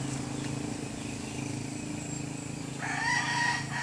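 A rooster crows nearby over a steady low hum, its call rising clearly toward the end of the clip.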